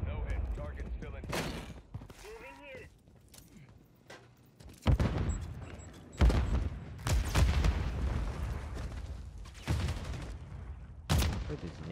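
Grenade exploding during a ranked online match of the shooter Call of Duty: Modern Warfare 3, with sharp, loud blasts breaking out among scattered gunfire and game noise.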